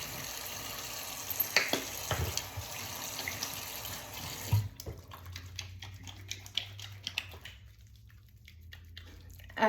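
Tap water runs steadily into a sink during a face wash, a close, hissy splashing stream with a few louder splashes, briefly interrupted, then a softer flow continues to the end.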